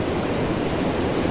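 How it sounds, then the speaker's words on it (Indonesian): Steady, loud roar of Kali Pancur waterfall in Central Java, one of the tallest falls in the region, a dense broadband rush with no breaks and no voices. "air terjun Kali Pancur ini termasuk salah satu yang tertinggi di Jawa Tengah ya."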